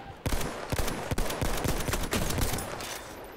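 Battlefield 1 machine gun fire rattles in rapid, loud bursts of sharp shots over constant battlefield noise. The rhythm stays fairly even, with a few heavier cracks mixed in and no voices.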